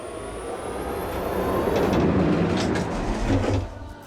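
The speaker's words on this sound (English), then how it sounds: "it also has probably one of the best sounding launches ever in a game" Roller coaster launch in the Planet Coaster 2 video game: a rising, whooshing mechanical roar with a high electric whine, swelling loud then cutting off sharply near the end, no voices.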